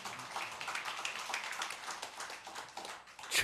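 A church congregation claps to give glory to God, a brisk patter of many hands at moderate volume with individual claps audible, rising to a louder burst at the very end.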